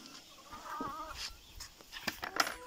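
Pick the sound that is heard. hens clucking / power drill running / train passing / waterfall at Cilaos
hens clucking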